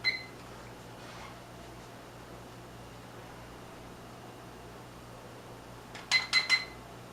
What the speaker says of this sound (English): Start your timer.